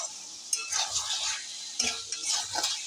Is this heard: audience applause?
no